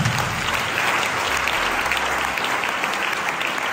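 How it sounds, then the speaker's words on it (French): A church congregation applauds together in a dense, sustained clapping that keeps an even level for the whole stretch, with no voices over it. "On acclame l'Éternel."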